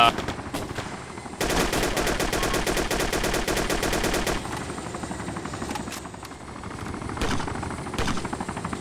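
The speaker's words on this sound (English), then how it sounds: "Keep shooting." Sustained rapid automatic gunfire from ARMA 2 rattles loudly for several seconds, with scattered single shots and a steady rumbling background before and after the burst.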